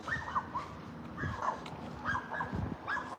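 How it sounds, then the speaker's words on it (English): A loose dog outdoors gives a few yelping, whimpering barks in quick bursts, fairly near, over a steady outdoor background with no talk. "somebody dog on the loose"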